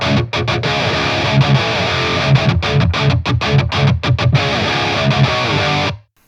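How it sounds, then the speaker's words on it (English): Metal electric guitar played through a Line 6 Helix with a fizzy, mid-heavy distortion, loud and dense with tight chugging palm-muted riffs and quick choppy stops before it cuts off abruptly. "that tightens up the low end a lot more, but it does tend to add a sort of mid-rangey, sort of fizzy distortion layer on top of the sound"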